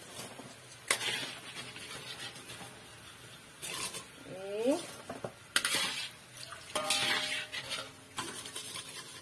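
Kuih kasturi frying in a pan, with utensils clattering and scraping against the pan in bursts and a soft sizzle beneath, close by; a voice speaks briefly.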